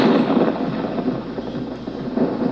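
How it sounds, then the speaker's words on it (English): Thunder sound effect from a Halloween horror sound collection, a continuous loud, broad rumbling roll with no distinct cracks, sustained evenly throughout. "Thunder."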